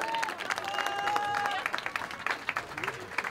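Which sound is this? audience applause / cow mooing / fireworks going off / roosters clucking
audience applause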